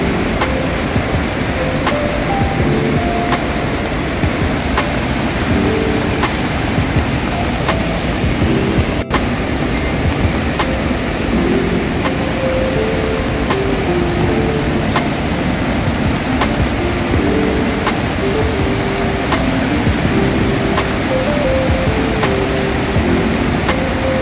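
Floodwaters of the swollen Nogli Khad river roar in a continuous, loud, dense rush with no break, close by and filling the whole stretch without any voices.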